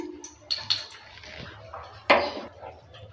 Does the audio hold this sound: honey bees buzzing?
no